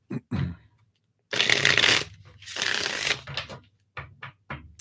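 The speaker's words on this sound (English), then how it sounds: "Let me just shuffle these up." Close, crisp riffling of a tarot deck being shuffled during a live reading, several bursts of rapid card flutter separated by short pauses, then a few soft taps as the cards settle.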